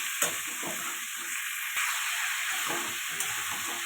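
Turmeric and chilli powder fry in a pan for a pumpkin, potato and Malabar spinach fish curry, giving a loud continuous hiss with bursts of crackling and sharp spatula scrapes against the metal. No voices.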